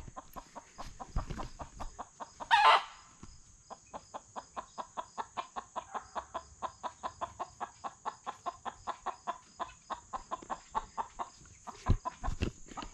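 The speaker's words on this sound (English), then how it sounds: "That's Copper up on top of the chicken coop." A hen perched on top of a chicken coop clucks steadily in a long run of close, rhythmic clucks, with one louder squawk early on.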